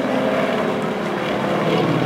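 A propeller aircraft roars loudly and continuously while taking off and climbing steeply at an air show in Kraków, a dense close engine drone with no speech.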